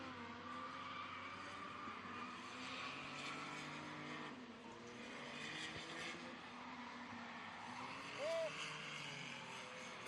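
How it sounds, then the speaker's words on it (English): A race car runs on a GRIDLIFE circuit during an event with drift and time attack sessions. Engine and tyre noise sound fairly distant and faint, with a brief squeal near the end and faint commentary in the background. "we got Evan Turk back out on track as well."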